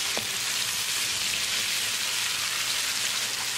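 Ginger, garlic and green chili paste sizzles steadily in a hot pan, a dense close crackling fry that holds without pause.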